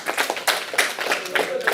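An audience claps for a participant at a talk, a short burst of several hands clapping in an uneven patter, fairly close and loud, with no one speaking over it.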